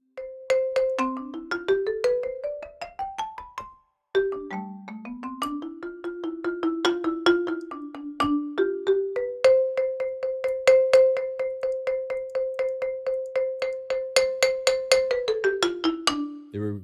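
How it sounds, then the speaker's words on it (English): The Budapest Abstract Marimba sample library plays a run of clear, struck mallet notes, stepping through rising and falling melodic lines with a bright, percussive attack and a short ring, up close with no talking. "there's the Budapest Abstract Marimba. Doesn't that sound great?"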